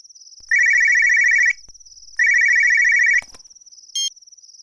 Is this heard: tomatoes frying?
no